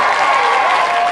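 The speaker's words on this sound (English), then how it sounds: "Cue the applause." Studio audience applause on a television show, a brief, loud, continuous wash of clapping that fills the whole moment without any break or voice.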